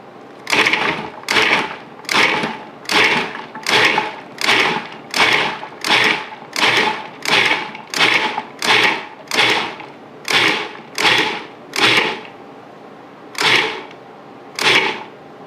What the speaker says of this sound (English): now we're going to pulse the cauliflower until it looks like rice